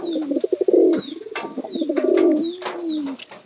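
Pigeons cooing up close, several deep throaty coos in a rolling rhythm with soft higher chirps between them, loud and clear with no talk.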